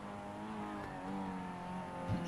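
Mazda MX-5 race car engine in the iRacing sim at Silverstone, a steady near drone with rising and falling revs held throughout, growing slightly louder at the end.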